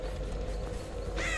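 Crows caw in the horror game Dead by Daylight, with a harsh call rising at the end over a low, droning game ambience.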